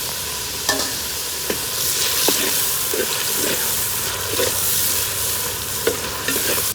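Mint leaves are stirred into a frying goat leg (mutton paya) curry, making a loud, steady sizzle broken by repeated spoon scrapes and knocks against the pan at an irregular pace.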